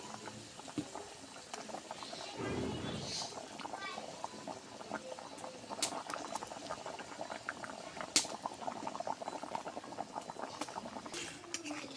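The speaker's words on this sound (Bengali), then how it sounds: "ঢাকনাটা খুললাম, দেখুন অনেক সুন্দর বলক উঠে গেছে।" Fish curry broth for rohu roe bhuna boils in a lidded pot, a continuous close bubbling and popping with scattered spits and a brief surge of bubbling partway through.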